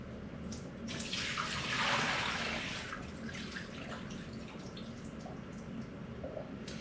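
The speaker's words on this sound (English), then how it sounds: "So let me get started by rinsing all of this meat off and getting it all patted dry" Running tap water rinsing a 4-pound flat corned beef brisket, a soft continuous splashing wash that swells briefly and then settles into a steady, fairly quiet stream.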